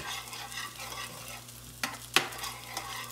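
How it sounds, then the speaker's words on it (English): Onions stirring and frying in a pan beside browning Polish potato dumplings, a low continuous sizzle with a couple of sharp utensil scrapes and taps, close and quiet with no voices. "So, I'm going to mix these onions up, let them caramelize."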